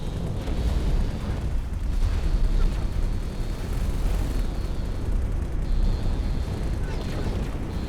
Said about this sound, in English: My ships are friendly firing.